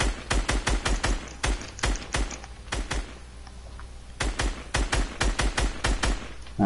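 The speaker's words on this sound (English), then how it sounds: "He's shooting me" Gunfire in a Fortnite match, sharp rapid bursts of shots in quick clusters, loud and close, with a short lull in the middle before another fast volley.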